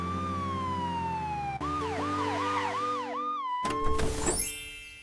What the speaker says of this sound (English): The ambulance goes bee-baw,